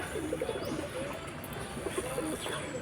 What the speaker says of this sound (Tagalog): ito po yung Nicobar pigeon